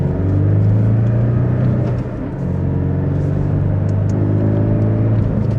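2025 Porsche 718 Cayman accelerating from the driver's seat, a steady loud engine drone and low rumble rising gently in pitch with a short dip midway, no talking.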